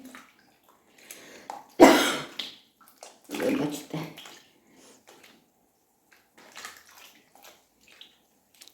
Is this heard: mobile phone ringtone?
no